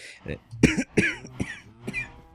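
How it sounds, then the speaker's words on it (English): A man lets out a choking-on-spit cough, a few harsh throat-clearing bursts in quick succession, close to the microphone, with his talking woven around them. "There's that choking on spit cough again."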